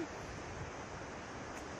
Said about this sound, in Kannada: ಸುತ್ತಾನು ಹರಿಯುತ್ತೆ ನೀರು